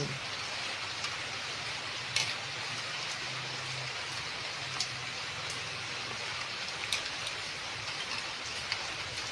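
Steady rain falls outdoors during a home cooking session, a soft continuous hiss of drops on surfaces with a few sharper patters, moderately quiet and with no talking.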